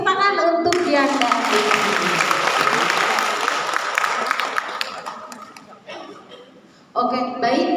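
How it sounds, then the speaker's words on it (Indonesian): An audience at an early-childhood education presentation breaks into sustained applause for a speaker, dense clapping that fades out over several seconds before a voice resumes talking. "sekalian dikasih tepuk tangan untuk Yanda"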